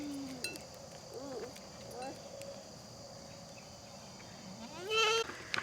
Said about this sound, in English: There's 5 colored goats in here now